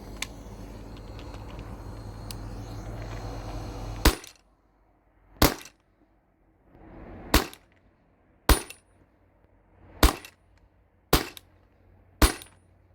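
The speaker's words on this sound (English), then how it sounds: "I believe that was 10 shots." A modified Valken M17 A2 HPA paintball marker on a 13 ci tank fires seven sharp, close single shots at irregular intervals of about a second, each a crisp pop, after a few seconds of steady hiss and background noise.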